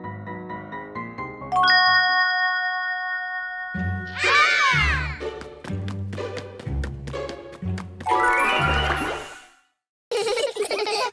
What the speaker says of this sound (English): George taps it again, and it plays a funny ting-ting that makes them laugh.